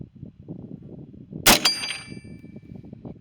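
A rifle firing handloaded frangible 5.56 ammunition: one sharp, loud crack with a brief metallic ring trailing off, set against a low, steady background rumble.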